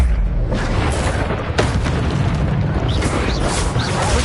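A fiery Incendio spell blast in Hogwarts Legacy, a dense roaring burst of flame that sustains loudly for several seconds with crackling bursts and a faint rumble underneath, no talking.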